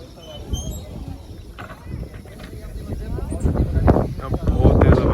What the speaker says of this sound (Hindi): अब बहुत तेज हवा चल रही है